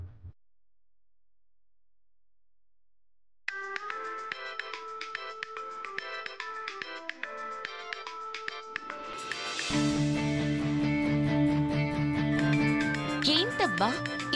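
A phone ringtone plays in a home scene from a Telugu TV serial, a tinkling melodic tune repeating for about ten seconds before fuller music swells in underneath.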